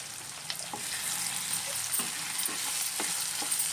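Chili powder goes into a paneer curry cooked without onion or garlic; it fries in the pan with an even hiss and sparse clicking stirs of a spoon, close by.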